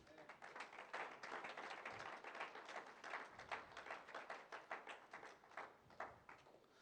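A church congregation claps together in a steady rhythmic beat as an offering to the Lord, a dense even patter of many hands held throughout at moderate level with no voices on top.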